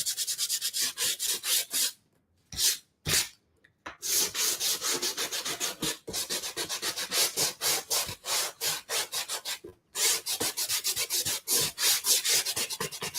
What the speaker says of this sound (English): this is what I use to sand down my truth card stands